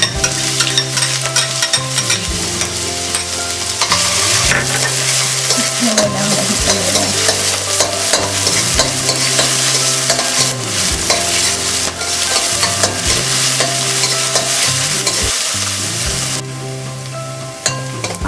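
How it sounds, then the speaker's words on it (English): Onion sautés in hot oil in a pot for Filipino lumpiang sariwa, a loud, constant sizzle broken by repeated clattering stirs that carry on throughout without a break. "Now it's time to saute our onion."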